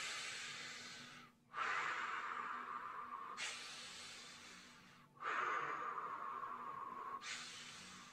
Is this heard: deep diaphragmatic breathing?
yes